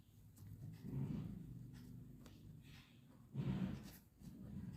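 Pen strokes scratching across paper in a quiet room, a few short bursts of writing with pauses between, close and faint.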